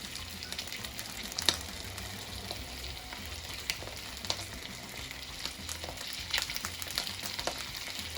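Garlic frying in oil in a pan for spaghetti with garlic and oil, a soft steady sizzle broken by scattered clicks and scrapes of stirring, fairly quiet and close with no talking.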